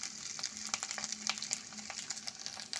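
Bay leaf, white cumin, grated ginger and asafoetida temper in hot oil for a vegetarian carrot dish. The oil crackles and sputters in quick, irregular pops over a low, steady hiss, close and fairly soft, with no talking.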